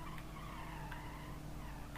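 A car in BeamNG.drive slides along with a continuous low tire and engine rumble, plus a few faint brief squeaks over two seconds of quiet gameplay audio.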